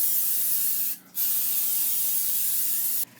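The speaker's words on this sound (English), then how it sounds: "don't forget to spray your pan with vegetable oil" Two long hissing bursts of aerosol vegetable oil sprayed onto a cupcake pan, close and loud, separated by a brief pause.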